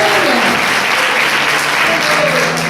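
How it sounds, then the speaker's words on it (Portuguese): A church congregation at a women's congress applauds, a loud, dense, continuous wash of many hands clapping with scattered voices and cheers mixed in. "Vamos aplaudir a Ele?"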